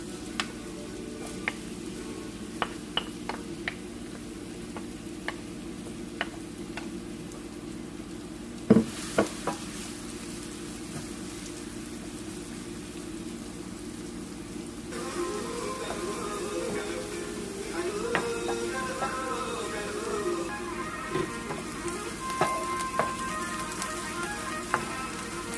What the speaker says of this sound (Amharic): እና ዘይቱ ሞቅ ሲል ሽንኩርት ጨምራለሁ።